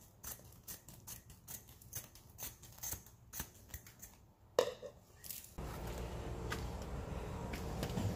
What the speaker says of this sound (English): So I'm going to go ahead and cut this baby in half.